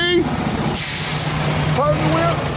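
A semi truck's air brakes hiss loudly and close during a pre-trip inspection, with a sharp burst of escaping air under a running engine and a voice speaking over it.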